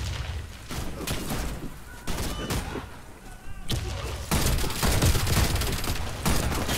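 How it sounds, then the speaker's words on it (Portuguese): A grenade goes off at the player's feet in a Warface team deathmatch, giving a dense, heavy rumble of blasts and gunfire that builds louder toward the end, with no voices over it. "Caiu granada no pé, mano. Tremeu tudo."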